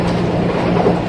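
A DC Metro Green Line train rides along with a loud, continuous low rumble and rattle, and nobody speaks over it.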